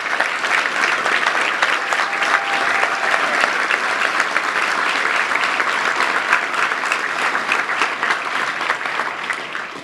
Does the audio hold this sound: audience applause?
yes